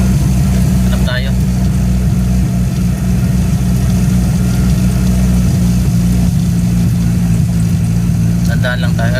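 A car with a broken clutch idles steadily, hazard lights on, its engine a constant low drone that fills the whole stretch, with a faint ticking or squeak briefly near the start and end.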